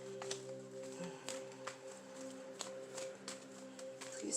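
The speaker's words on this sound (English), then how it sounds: "I'm shuffling. I'm meditating as I shuffle." Tarot cards shuffled by hand, faint and close, with soft repeated riffling taps over a low steady hum.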